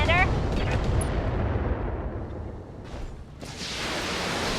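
LRM-15 and LRM-20 missile launchers firing in Battletech, a loud roaring volley of launches that fades then swells again, with a voice present.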